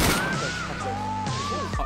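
Video game gunfire aimed at a strider: rapid clipped shots cluster at the start and near the end, over a dense layer of game noise with whistling tones.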